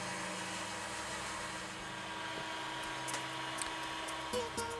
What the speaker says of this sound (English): using the hot air gun just as the sole heat source